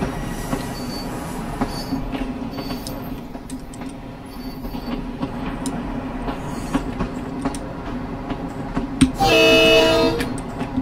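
A Long Island Rail Road M7 commuter train in the video game Train Sim Classic rumbles and clatters along with faint squeals, then a loud bright tone near the end, heard alone without voices.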